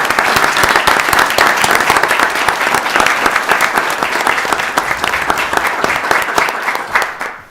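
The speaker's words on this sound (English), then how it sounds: "Please join me in giving them and all our first responders a nice round of applause." Loud, sustained applause from an inauguration audience honoring police and fire honor guards, many hands clapping steadily before tapering off at the end.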